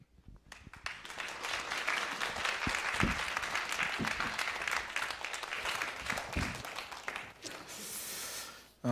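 A church congregation applauds during a Christmas Eve sermon service, clapping that rises quickly and holds for several seconds at moderate loudness before tapering off near the end.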